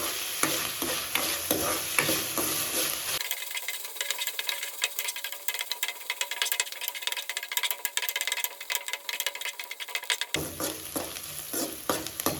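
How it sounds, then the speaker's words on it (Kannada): Onions fry in hot oil until brown for a curd rice tempering, giving a steady, close hiss and crackle that runs continuously, briefly thinning in the middle before returning fuller. "ಈರುಳ್ಳಿ ಬ್ರೌನ್ ಕಲರ್ ಬರೋವರೆಗೂ ಚೆನ್ನಾಗಿ ಫ್ರೈ ಮಾಡ್ಕೊಳ್ಳಿ"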